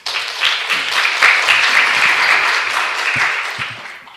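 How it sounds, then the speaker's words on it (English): Applause from a symposium audience at the National Cancer Center, a dense, steady wash of many hands clapping that holds evenly for about four seconds before tapering slightly at the end. "Please give him a big round of applause again."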